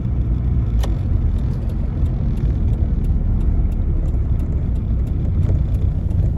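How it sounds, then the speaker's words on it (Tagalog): Steady road rumble from a car driving along a road in Taiwan, a continuous interior drone with a few faint clicks and ticks over it, no talking. "Sarap magmaneho dito sa Taiwan."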